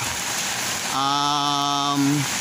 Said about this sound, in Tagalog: Maghapon kasing umuulan.